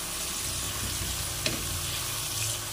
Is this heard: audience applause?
no